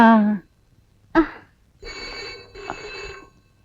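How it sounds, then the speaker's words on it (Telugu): A telephone rings in a few short bursts separated by brief pauses, fairly close and clear, with no talking over it. "ఫోన్ వచ్చింది"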